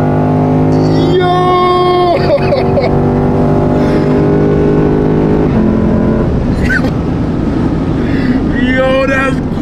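A 450 hp Lexus IS F V8 revs and rips through quick downshifts, with rising and falling engine tones, sharp blips between gears and a throaty roar heard from inside the car while occupants talk excitedly.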